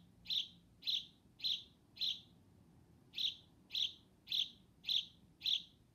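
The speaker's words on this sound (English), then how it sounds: "Yep, that's Fido the bird." A bird in a movie chirps in short, evenly spaced high notes, four and then five, clear and fairly close over a quiet background hum.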